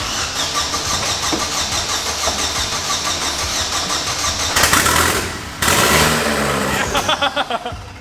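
A Vauxhall Corsa VXR being rebuilt after a blown engine cranks over and fires into life, settling into a steady idle with a couple of sharp revs and some short bursts near the end.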